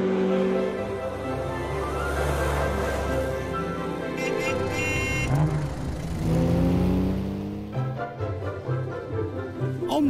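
A 1982 Audi Quattro engine revs and accelerates, its pitch climbing and falling through several sweeps, with a whirring tone and a brief rise near the end; a faint voice may sit beneath.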